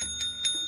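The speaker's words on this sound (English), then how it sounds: "More bell." Two quick, faint metallic bell dings sound in succession on a radio broadcast, short and bright with a soft tonal hum underneath.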